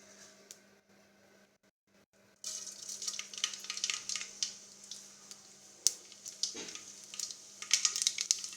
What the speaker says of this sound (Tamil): எண்ணெய் காஞ்சிருச்சு இப்போ கடுகும் மஞ்சத்தூளும் போட்டுக்கலாம்